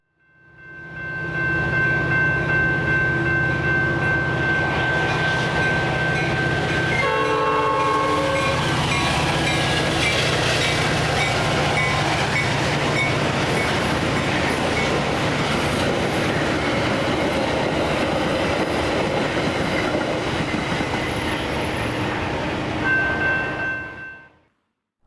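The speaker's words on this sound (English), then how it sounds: "I stuck it out for one more outbound Metra train." A Metra commuter train passes close by on the tracks, loud and continuous with rumbling wheels and clickety-clack, and a sustained horn blast at the start and again near the end before the sound cuts off.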